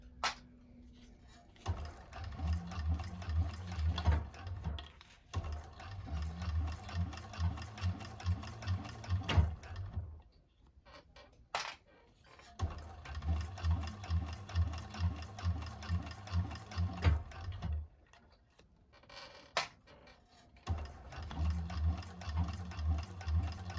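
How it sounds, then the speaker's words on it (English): A 1341 cylinder arm sewing machine stitches a bag in repeated bursts of steady, rapid mechanical whirring and needle chatter, stopping briefly between runs and then starting again; close and clear, with no talking. "I'm going to sew up to it."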